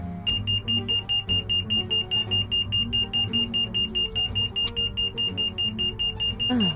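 Security alarm in a detective video game: a loud, steady electronic tone with rapid regular pulsing, sounding continuously and close, ending in a brief falling sweep.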